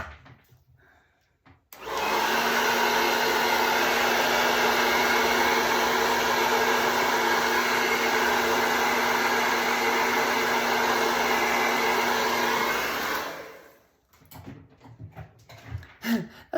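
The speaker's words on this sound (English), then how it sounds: "Blow dryer on, cool, lowest setting." A hair dryer on its cool, lowest setting whirs on with a steady, even blowing hum that holds for about twelve seconds, then switches off to quiet rustling.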